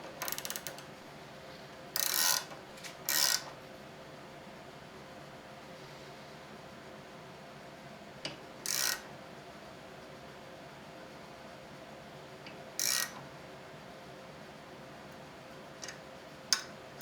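A TDC sight adjustment tool working the rear sight of a Beretta PX4 Storm pistol gives short ratcheting clicks in scattered bursts, quiet and close, with long pauses between turns.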